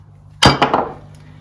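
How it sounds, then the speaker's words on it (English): A single sharp hammer strike rings out against a stuck pin on a 1962 Bolens Ride-a-matic lawn tractor during repairs, close and loud, with a short metallic ring decaying after the hit. "giving it a swift hit with the hammer"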